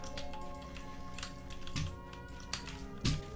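Scattered keyboard key clicks tap irregularly over a constant hum of background noise, with a few louder clacks toward the end.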